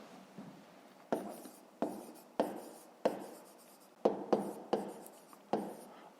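Pen strokes on paper while a fifth-grade math solution is written down: a series of short scratchy bursts at an even, unhurried pace, close and quiet, with no talk.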